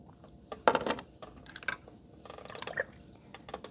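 Lapis brown watercolor paint and water are poured, giving a few soft drips and small liquid splashes in short, quiet bursts.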